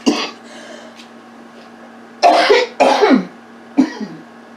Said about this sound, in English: The peppers is opening up my sinuses, is making me cough.